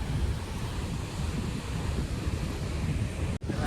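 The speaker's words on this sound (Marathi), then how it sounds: "लाटा बघा येत आहेत." Ocean waves break steadily at Are Ware beach in India, a continuous roar of surf mixed with wind buffeting the microphone, with a short dropout near the end.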